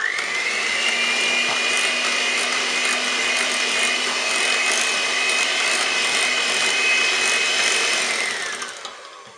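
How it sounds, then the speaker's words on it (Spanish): A hand blender's steady high-pitched motor whir mixes cake batter continuously for about eight seconds, close and loud, then winds down and stops. "con la batidora de varillas, podéis usar la batidora de mano."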